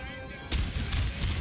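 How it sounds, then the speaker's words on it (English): A musket volley erupts in Napoleon Total War, a sudden loud crackling burst of many shots at once after a brief tonal lead-in, rumbling on for about a second. "First some shots from the back."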